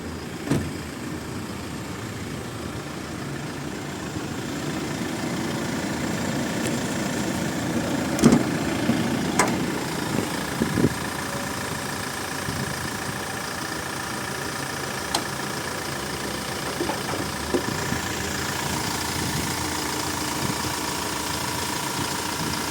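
A Toyota Commuter long-nose van from 2020 with an automatic gearbox idles steadily, a low continuous engine drone with a few brief clicks and knocks on top, heard up close and without talk.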